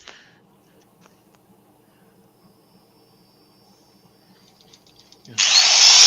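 A quiet low hum of a lathe runs for several seconds, then a loud, hissing abrasive rush of sandpaper on a turning wooden platter abruptly starts and continues.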